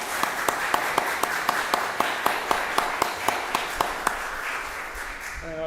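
Steady clapping from a congregation at a Sunday service, with a few sharp, evenly spaced claps standing out over a dense wash of applause that fades near the end.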